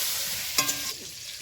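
Pointed gourd sizzles steadily in hot oil, with a brief clatter of stirring in the pan partway through.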